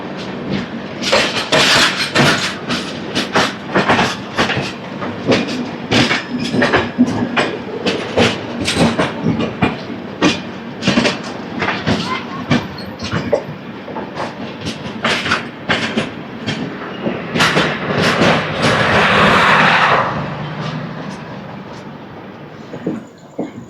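Godavari Express train 12728 running on rails near Vijayawada, a steady loud clickety-clack of wheels over rail joints with dense repeated beats, swelling into a broader rushing roar near the end before easing off.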